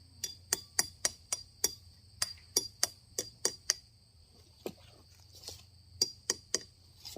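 Quick sharp metallic taps come in rhythmic bursts with short pauses, hammering a small metal spout into a rubber tree, fairly faint and otherwise quiet.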